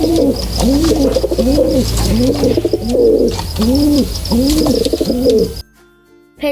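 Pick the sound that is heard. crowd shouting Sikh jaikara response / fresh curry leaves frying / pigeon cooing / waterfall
pigeon cooing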